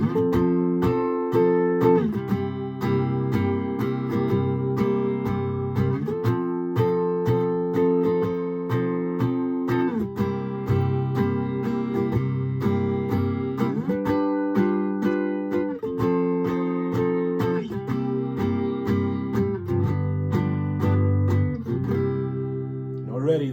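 A keyboard plays a twelve-bar blues chord progression with rich dominant seventh chords, moving steadily through the changes and ending on a turnaround in the twelfth bar.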